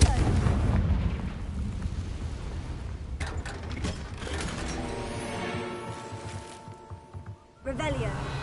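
A Confringo blasting spell in a video game erupts as a loud, rumbling burst, followed by crackling, booming debris. The blast settles into a lower roar before a sharp new hit near the end.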